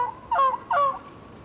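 Two quick raspy yelps from a wooden turkey box call during a hunting calling sequence, sharp and fairly close, alone against faint outdoor background.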